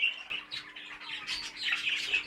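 Kept pet birds chirping and tweeting indoors, a quick run of bright overlapping calls that sits fairly close and fairly soft with no talking.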